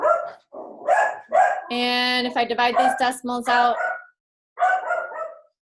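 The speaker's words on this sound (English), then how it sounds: "Uh-oh, I got a dog walking by here" A dog barks nearby in a few short harmonic yelps, heard between and over a man's steady spoken explanation in an indoor math lesson.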